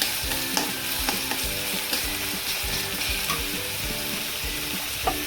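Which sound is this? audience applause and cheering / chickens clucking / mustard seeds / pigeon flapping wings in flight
mustard seeds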